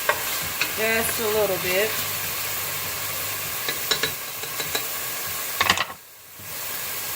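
Garlic cooking in a pan for a butternut squash and sausage lasagna, a steady close sizzle with stirring scrapes, a brief spoken remark near the start, and a short quiet dip late on.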